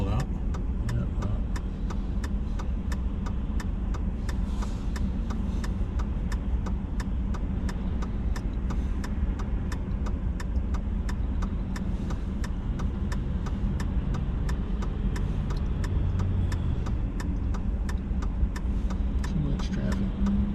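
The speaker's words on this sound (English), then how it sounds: "Too much traffic." Road traffic with cars passing on a street in Minot, North Dakota, heard as a steady engine and tyre rumble from a moving vehicle, constant and moderately loud throughout with no clear gaps.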